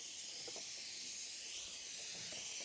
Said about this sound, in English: what I'm gonna do is I'm gonna take my air blower. I got my compressor aired up.